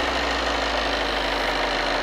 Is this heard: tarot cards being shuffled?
no